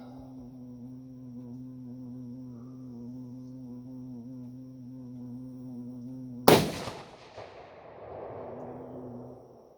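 A single loud, sharp rifle shot from a thin-barrel 280 Ackley Improved, cutting through a steady droning hum and trailing off in a rolling echo.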